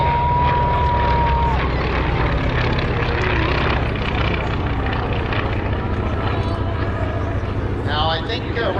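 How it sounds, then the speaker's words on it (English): A Dauntless and an A1 Skyraider, both World War II-era propeller planes, fly at an airshow in Abbotsford, British Columbia, with a steady, loud engine drone. Someone talks over the engines throughout. "Here's a good look at the Dauntless with the Skyraider as the Skyraider peels away."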